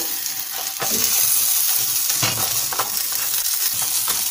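Cheese pastries (khachapuri) sizzle and crackle steadily in a hot frying pan, with occasional scraping or shifting sounds, close up and with no one speaking.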